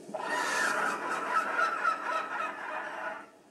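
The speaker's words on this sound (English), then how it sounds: "That is definitely a seagull" An adult Rhamphorhynchus in the game Path of Titans lets out a broadcast call, a single loud, drawn-out seagull-like squawk with harsh honking wavers that fades after about three seconds.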